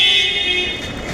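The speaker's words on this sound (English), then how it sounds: "You do hear cars hooting every now and again" A car horn in Shenzhen traffic gives one steady, loud, sustained hoot over a dense rumble of road noise.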